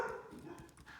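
A dog barks from behind a closed door, muffled and fairly faint, with a short run of overlapping woofs and whines filling a brief moment while no one speaks.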